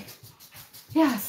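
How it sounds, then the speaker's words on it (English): A small white fluffy dog pants in quick rhythmic breaths close to the microphone, then lets out a short high whimper as a person briefly speaks. "I'm sorry about my dogs."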